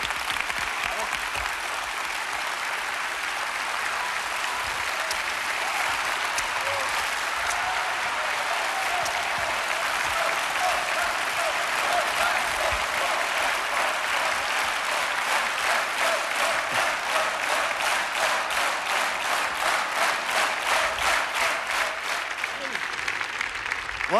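A theatre audience gives continuous, dense applause throughout a live stage show. Loud, even clapping from a large crowd swells slightly and turns into faster rhythmic clapping in the second half.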